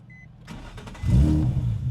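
A drift car engine cranks briefly with a few whirring starter pulses, then catches and fires into a rough idle, close and fairly loud, over about two seconds with no talk.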